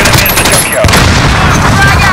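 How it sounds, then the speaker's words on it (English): Call of Duty Modern Warfare 2019 match with a grenade blast and gunfire, a loud dense burst of shots and a boom, with game voice callouts heard over it. "Throwing stun grenade! Throwing grenade!"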